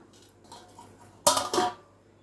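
A single clattering metallic clink of a lid set onto a pot of citron pachadi, loud and close, after quiet kitchen background.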